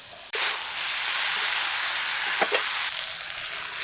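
Hilsa fish heads and kochu loti (taro stolons) hit a hot pan and start sizzling, a sudden onset followed by a steady, close frying hiss with a couple of brief stirring clatters.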